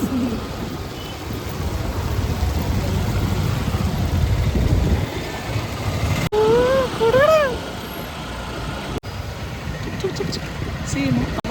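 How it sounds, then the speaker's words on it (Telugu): A motorcycle arrives with a low engine rumble that builds and then settles. Birds chirp briefly nearby partway through. "అమ్మ బైక్ వచ్చింది."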